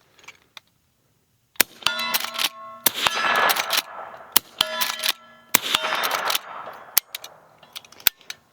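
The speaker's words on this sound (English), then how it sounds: "I think the first one will be 38, second one will be 357." Henry X lever-action rifle firing .38 Special then .357 Magnum rounds at a steel target: a few sharp loud shots with ringing metallic clangs, separated by the clatter of lever cycling, outdoors, no talking.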